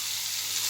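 Potato pieces fry in oil with ground cumin and dried chili powder, giving a close, steady sizzle with no voices.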